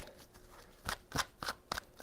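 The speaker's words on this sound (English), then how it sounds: "2 shuffles, Pisces." A deck of tarot cards being shuffled: a soft riffling texture with several distinct flicks and snaps in quick succession, close but fairly quiet, with no talking.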